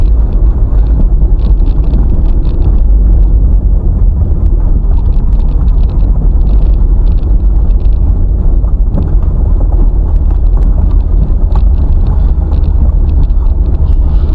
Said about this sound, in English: loud sound in the background because that's the car muffler